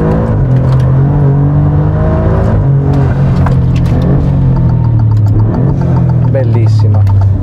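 An Alfa Romeo Giulia Quadrifoglio accelerates hard, its engine droning loud and close throughout, with repeated rises in pitch and brief dips between gear changes.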